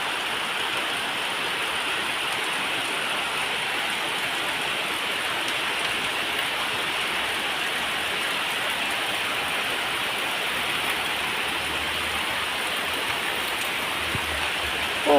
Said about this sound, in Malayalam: നല്ല വെളിച്ചത്താലുള്ള മഴ നോക്കിയാ ഗായ്സ്